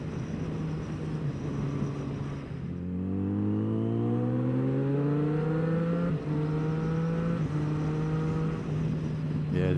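A sport motorcycle engine idles, then revs and pulls away with rising pitch, runs steadily and drops back toward idle, heard fairly close and clear.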